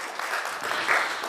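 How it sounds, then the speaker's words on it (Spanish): Brief burst of steady congregational clapping in a church service, dense and even, with no one speaking. "Dele un aplauso al Señor, por favor, amado hermano."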